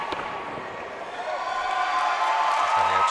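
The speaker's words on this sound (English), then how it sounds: "Crowd going crazy again" Crowd at a K1 kickboxing semi-pro fight, a broad, steady roar of cheering and noise that swells gradually louder, with a commentator's voice running over it and faint thuds of action.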